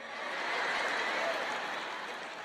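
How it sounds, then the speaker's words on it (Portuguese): Light applause from a church audience at a sermon, a steady patter of scattered clapping that swells slightly mid-way and holds for a couple of seconds without voices. "Acho que temos algumas palminhas."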